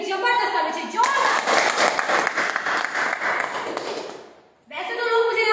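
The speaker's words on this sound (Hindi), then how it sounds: "जबरदस्त ताली चाहिए, जोरदार।" Audience applause at a company gathering, a dense burst of clapping that fills the room for several seconds and then fades out, with a voice speaking before and after.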